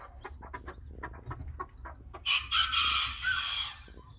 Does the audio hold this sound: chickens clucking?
yes